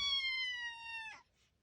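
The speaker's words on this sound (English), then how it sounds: "Can't forget the kittens." A kitten gives a single long, steady meow that holds for about a second before breaking off, followed by a faint, brief squeak.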